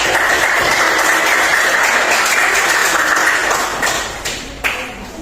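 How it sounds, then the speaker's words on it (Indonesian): Classroom applause for a student group during a teaching practice lesson, a dense steady clapping that fills the room and then thins out into a few scattered claps near the end. "Boleh kasih tepuk tangan untuk kelompok 2"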